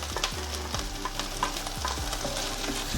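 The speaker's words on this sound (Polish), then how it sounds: "Wszystko razem podsmażamy, aż się zeszkli." Diced onion frying in melted butter in a hot pan, a continuous close sizzle with regular stirring scrapes about every half second.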